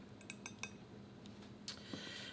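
Cutlery scrapes and clinks against a dish as food is served: several quick, close metallic taps early on, a pause, then a couple more clinks, fairly quiet.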